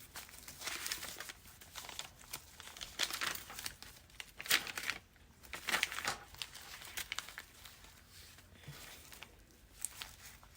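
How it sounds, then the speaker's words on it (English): Sheets of coffee-dyed paper in a handmade junk journal crinkle and rustle as pages are handled and turned, close up and steady with irregular soft crackles and no talking. "Some more coffee dyed paper."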